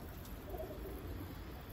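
Pigeons coo softly in an outdoor pigeon-keeping setting, a brief low murmur over constant background noise.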